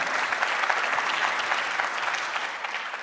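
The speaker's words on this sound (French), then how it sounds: "que je vous demande d'applaudir bien fort" Audience at a mayors' support gathering near Chinon applauds a candidate and his running mates, a dense, steady wash of many hands clapping loudly and continuously throughout.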